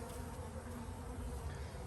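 Bees drone steadily around a dead hive, a soft, continuous buzz heard close by, with no voices.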